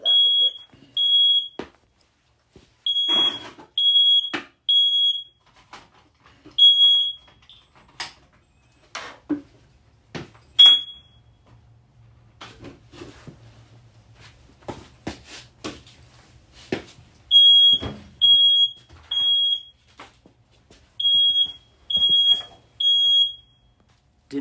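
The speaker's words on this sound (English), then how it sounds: "but the smoke detectors work, which is wonderful" Smoke detector in a garage workshop sounds in repeated bursts of sharp, high-pitched beeps, each cluster of three or so tones separated by pauses, with clattering metal tools and brief knocks between the alarms.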